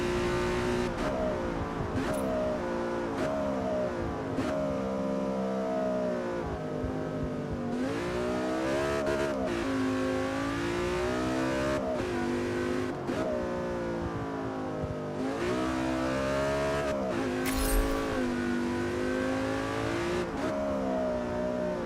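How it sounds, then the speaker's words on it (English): Car engine revving hard and near, a loud continuous roar that climbs and falls in pitch through repeated gear changes, with short breaks between pulls and no talking over it. "Like any car in the world sound better than this car?"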